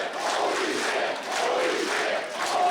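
A standing wrestling arena crowd in Yarmouth, Maine roars and cheers loudly in continuous swells, dense and close, with scattered shouts rising out of the noise.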